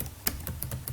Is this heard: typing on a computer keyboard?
yes